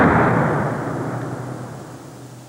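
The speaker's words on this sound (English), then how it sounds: "the end of the battle was marked with a shattering explosion as the French battleship" A loud, shattering explosion as the French battleship L'Achille blows up at the end of the Battle of Trafalgar, a broad rumbling roar that starts strong and slowly fades over a couple of seconds.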